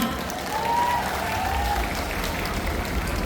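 An audience applauds at the 32nd sweet santol fruit festival in Lopburi, Thailand, in 2025. Steady crowd clapping carries on throughout, with a voice briefly audible over it.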